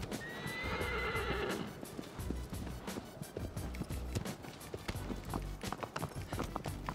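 A horse in Shadow of the Colossus neighs loudly at the start, then its hooves clop in a fast, steady gallop rhythm over a low rumbling background.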